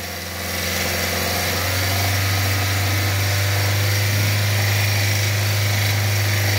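A Ford Fox 1.0 engine with an abnormal mechanical noise and oil pressure loss revs up and holds, a loud sustained drone with a strong low steady tone and buzzing harmonics that swell after the first second.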